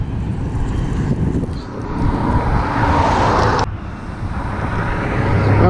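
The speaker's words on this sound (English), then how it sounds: "Sorry about the noise and the traffic." Steady road traffic noise at a bridge over water, a continuous broadband roar of passing vehicles that swells in the middle and cuts briefly near the end, with no talk.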